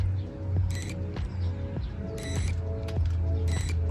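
The autofocus motor of a Hasselblad XCD 45mm f3.5 lens whirs and ticks in short repeated mechanical bursts while focusing, close and faint over a low steady hum, with a few sharp clicks.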